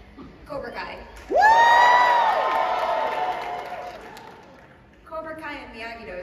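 A large fan-event crowd erupts into loud shrieking cheers and whoops for the Cobra Kai dojo after brief talk, the roar slowly dying away before speech resumes.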